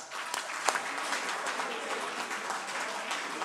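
A reunion crowd applauds continuously in a steady wash of clapping, fairly quiet and a little distant, with a few sharper claps near the start rather than three distinct group claps.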